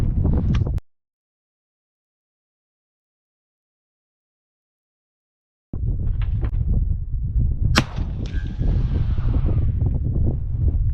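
A rifle, a Q Mini Fix topped with an Eotech Vudu optic, fires one sharp, loud crack outdoors. The shot comes after a stretch of silence, and wind rumble on the microphone surrounds it.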